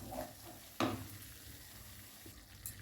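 Cashew paste masala fries in a pan while being stirred, heard as a faint, soft sizzle with one sharper scrape near the start and light clinks, with no talk.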